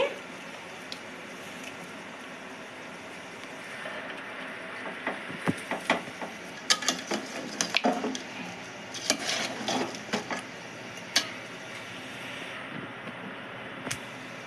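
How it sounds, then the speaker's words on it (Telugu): Tomato pieces go into a pan with ginger paste and are stirred for chicken biryani, a run of clattering spoon-on-pan scrapes and knocks, busiest in the middle, over a low background hiss, close and moderately loud. "ఇందులోనే టమాటో ముక్కలు కూడా వేస్తున్నానండి"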